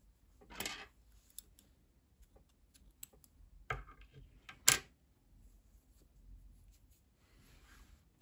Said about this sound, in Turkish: İpliği burada kesiyorum.